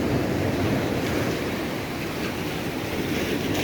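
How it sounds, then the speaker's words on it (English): Waves wash steadily onto a quiet stretch of beach in Alanya, Turkey, a continuous broad roar of surf with some wind over the microphone and no voices. "we kind of like this part of the beach because it's a bit quiet and there's not a lot of people"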